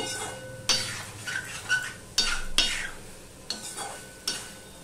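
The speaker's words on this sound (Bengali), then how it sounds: "আমি একটু কষিয়ে নিচ্ছি।" Raw green banana with mustard being sautéed in a pan, a sizzle under repeated sharp scrapes and clinks of a spatula stirring against the pan at an irregular rhythm.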